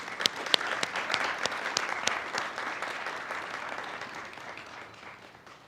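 A graduation ceremony audience claps in sustained applause, sharp at the start and then slowly fading, with no voices.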